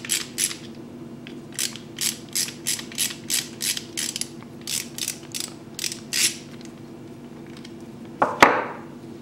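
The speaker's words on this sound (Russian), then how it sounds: "Torx T20, придерживаю, откручиваю вот этих три винта." A hand tool backing out Torx T20 screws on a Land Rover Discovery 3 air suspension compressor, a string of short ratcheting clicks in a steady rhythm, close and fairly quiet, ending with a louder clunk.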